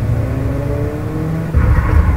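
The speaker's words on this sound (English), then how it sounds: "Taking the monster truck and I'm getting out" A monster truck engine in a video game rumbles and revs steadily, growing louder and rougher partway through as the throttle opens, with no talking.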